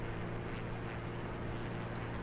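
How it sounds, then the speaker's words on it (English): Steady wind buffets a Beechcraft Bonanza G36 in Microsoft Flight Simulator, a constant broadband rushing roar with a low engine hum beneath and no speech. "You can see it's a little windy,"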